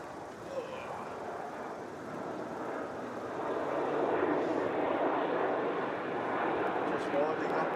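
An airliner takes off from runway 34 at Melbourne Airport, a broad, steady jet engine roar that builds and stays loud, heard from a distance without talk.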